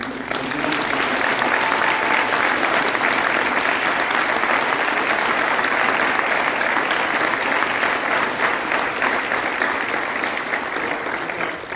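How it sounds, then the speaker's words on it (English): A panel audience at a theme park industry conference applauds the panel's longtime moderator, producing a full, even roar of clapping from many hands that holds steady for over ten seconds. "I really want to applaud Bob for 20 years doing this panel"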